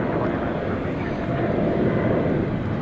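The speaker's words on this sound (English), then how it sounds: "I see American Flight 7 off to Brisbane is now on the move. That's a Dreamliner -9." American Boeing 787-9 Dreamliner airliner on the move at DFW Airport at night, a steady distant engine roar that holds throughout under continuous talk.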